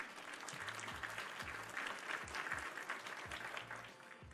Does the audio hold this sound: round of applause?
yes